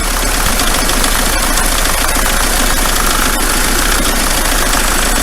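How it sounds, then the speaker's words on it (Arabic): Diesel engine running steadily after injector cleaner was added, a loud, close, continuous idle with a rough knocking texture and constant vibration, heard alone without talk. "تحس الموتور كيف يتغير، يعني تحس الموتور بدا يتغير"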